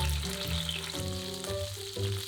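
Food pan-fries undisturbed in a hot pan while browning, a steady dense sizzle with crackling spits running throughout, fairly close and continuous, with no talking.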